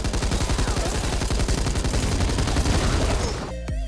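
Rapid gunfire from players shooting zombies in the video game Back 4 Blood, a dense, loud burst of steady automatic shots running throughout and cutting off abruptly at the end.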